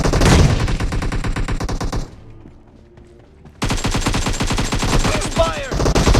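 Rapid automatic gunfire rattles in dense bursts in the PUBG video game, loud and close, breaking off for a short quiet gap before another sustained volley resumes.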